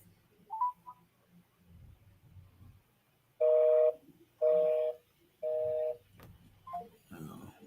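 A phone rings out in three steady, evenly spaced electronic tones, loud and close, with quiet murmuring and a brief voice before and after.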